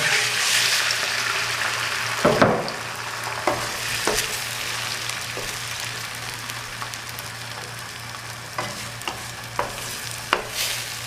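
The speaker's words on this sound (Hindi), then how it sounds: "सबसे पहले मेरे पास 2 अदद अंडे हैं, मैं उनको फ्राई कर लूँगा।" Beaten eggs fry in ghee in a pan with a steady, close sizzle, broken by several sharp scraping and stirring knocks from the spatula throughout.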